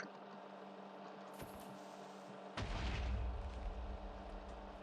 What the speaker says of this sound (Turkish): Kanka bu creeper bozuk. O yüzden patladı yoksa patlamazdı.